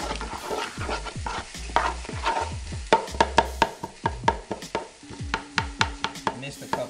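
Garlic being stirred into a pot of spaghetti sauce, a close run of wet scraping and clinking strokes against the pot at a quick, uneven rhythm, with a faint steady simmer underneath.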